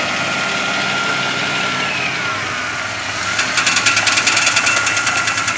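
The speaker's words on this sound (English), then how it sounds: "Hear that fan hitting." Truck engine idling in a mudding outing, its cooling fan engaging partway through with a rhythmic pulsing whir that swells over the steady idle drone; no talking.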